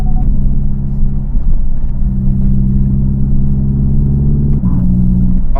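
A Hyundai IONIQ 5 N hot hatch drops a gear and pulls hard on a winding road, its loud, steady synthetic engine-like drone holding pitch under power, then stepping up briefly near the end.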